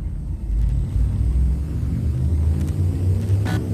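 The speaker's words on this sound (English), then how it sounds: "Drive charging." A spaceship's frame shift drive charges in the Elite Dangerous video game: a loud, deep, steady rumble builds with a faint rising whine near the end, and no speech over it.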